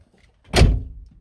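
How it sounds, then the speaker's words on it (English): A VW T4 van door shuts with a single solid thud partway in, with a brief rattle as it settles and no talk. "So if I can close the door."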